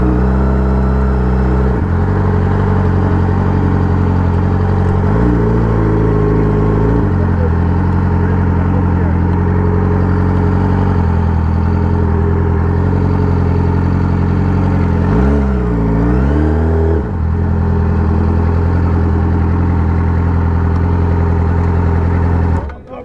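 Motorcycles at a bikers' meetup idle with a loud, continuous engine drone, punctuated by a couple of throttle blips that swell and fall. Voices sound faintly beneath the engines.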